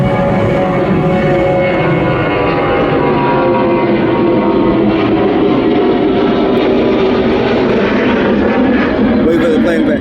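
An airplane flies overhead as a loud, continuous engine roar that fills the whole stretch, steady and close, with no break.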